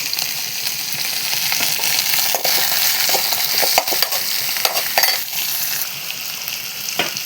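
Drumstick pieces and onion sauté in hot oil for sambar, a steady close sizzle with frequent stirring scrapes and clinks running the whole time, no talking.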